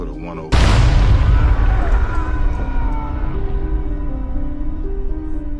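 Artillery fire in a war film: a sudden heavy blast slams in, then a long rumbling roar and debris wash slowly decays, loud and close, with voices faintly under the aftermath.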